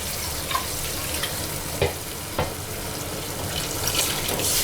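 Water poured into a pan of cooking lentils for Chettinad-style paruppu masiyal, a steady hiss with sizzling and a few sharp clinks or stirs, close and moderately loud, with no speech.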